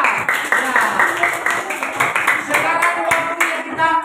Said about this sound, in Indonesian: Saya akan berikan tepuk tangan buat kelompok 3